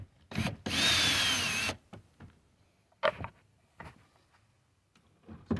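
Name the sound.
power drill backing out tow mirror bolts on Chevy Silverado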